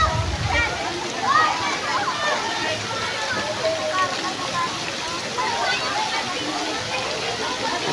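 A shower running inside a resort bathroom: steady hissing, splashing water fills the whole stretch at close range with no break.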